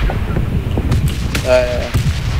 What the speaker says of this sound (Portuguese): A bomba!